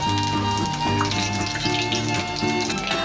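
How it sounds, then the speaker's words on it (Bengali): Spice seeds and dried red chillies sizzle in hot oil as a crackling, popping fry beneath steady background music. "ছোট্ট এক চামচ ফোড়ন দিয়ে দেবো, দুটো শুকনো লঙ্কা দিয়ে দেবো কেটে"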